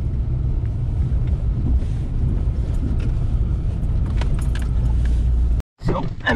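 A Volkswagen Lupo 1.4 drives over a rough forest road in winter, with a steady loud engine drone and rumble, bumps and clatter, and wind buffeting the microphone, then a brief cut before the noise resumes.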